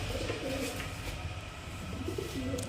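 Madras high-flying pigeons of the Chennai line, kept at a home loft, coo steadily in low throaty bursts close by, with faint voices in the background.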